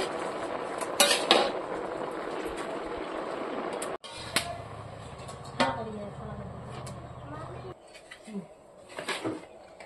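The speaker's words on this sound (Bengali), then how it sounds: "ঘন্টটাকে আমি ভালো করে এখন লবণ দিয়েছি, এখন মিক্স করে নেব।" A ghonto dish is stirred with salt in a pot, with spoon scraping and clinking against the metal and a few louder knocks, while a voice talks over the stirring.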